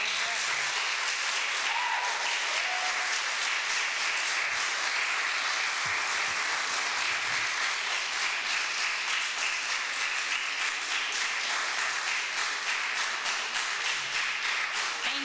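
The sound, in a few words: audience applause in a room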